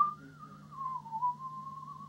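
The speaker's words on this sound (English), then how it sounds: "Whistle." A person whistles a single steady, wavering tone for about two seconds, clear and close with no talk over it.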